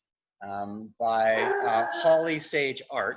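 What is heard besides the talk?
dog barking in the background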